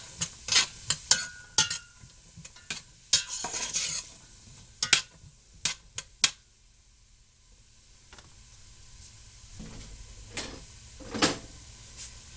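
A noisy stirrer scrapes and clanks through a pot of corn chowder, with sharp irregular knocks and scrapes up close, then a quieter, softer stretch near the end.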